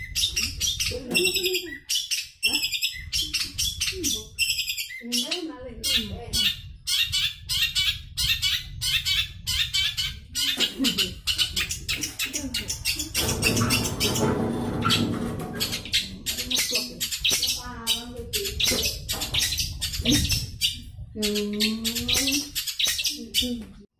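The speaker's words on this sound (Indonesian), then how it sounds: "Burung cendet yang bunyi sambil salto ataupun sambil loncat-loncat" A long-tailed shrike sings a busy, varied song of rapid chirps and whistled phrases, loud and close, continuing for a long stretch with brief pauses.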